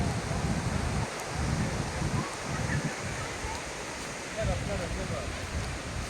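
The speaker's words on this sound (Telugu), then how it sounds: "వాటర్ ఫాల్స్ సూపర్గా ఉంది." Waterfall in Coimbatore, Tamil Nadu, giving a steady, broad rushing roar of falling water that fills the clip without a break, with no voices over it.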